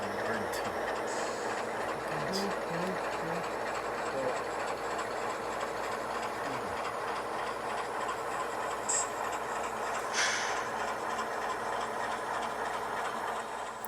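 HO scale model steam locomotive with a streamlined smoke stack and friction-bearing tender trucks running on a layout, a steady mechanical rumble and clatter throughout with a few faint clicks, while voices talk in the background.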